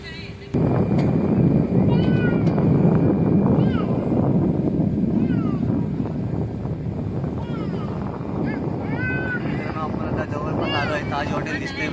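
Speedboat running across open sea from Mandwa to the Gateway of India in Mumbai, a steady roaring rush of engine, water and wind, with people talking over it throughout.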